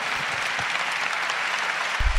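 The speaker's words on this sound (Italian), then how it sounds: "si chiude con questo applauso la passerella del Ministro della Giustizia Andrea Orlando al Congresso Nazionale Forense" Applause at the national lawyers' congress (Congresso Nazionale Forense) for Justice Minister Andrea Orlando: a sustained, even clapping from a large hall audience, with a thump near the end.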